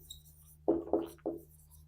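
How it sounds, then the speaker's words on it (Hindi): Three quick, close scratchy strokes of writing on a board or paper during a math lesson, spaced irregularly over a faint steady hum, with no talking. "पहले लिखेंगे गिवन"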